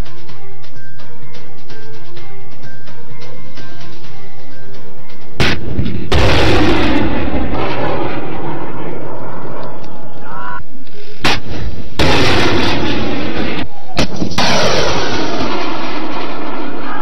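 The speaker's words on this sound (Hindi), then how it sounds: "पाक बहरिया का जमीन से फिजा में मार करने वाले मिसाइल फायर करने का मुजाहरा।" A Pakistan Navy surface-to-air missile firing demonstration: after a quiet hum, several loud launch blasts roar out one after another, each with a rushing tail that fades before the next.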